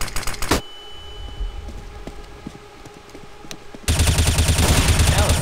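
Gunshots in Counter-Strike on the Mirage map: a few sharp shots open, then quiet footsteps and clicks, before a loud sustained burst of automatic fire to the end.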